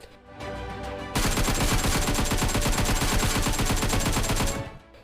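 Rapid automatic gunfire in the video game PUBG rattles continuously for several seconds, loud and dense, after a short lead-in of quieter shots.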